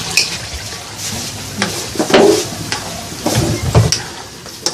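Coconut milk cooking down into latik in a pan, a loud steady sizzle and bubbling broken by several stirring scrapes and clinks of a utensil against the pan, with no talk.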